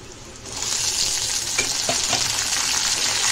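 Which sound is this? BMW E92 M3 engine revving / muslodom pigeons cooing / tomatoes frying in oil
tomatoes frying in oil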